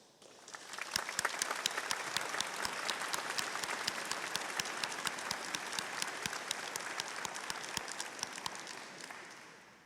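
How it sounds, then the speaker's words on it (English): Graduation ceremony audience applauding their supporters, a broad continuous clapping that swells up quickly and holds evenly, with individual sharp claps standing out near the front, fairly quiet overall. "let's give them a round of applause"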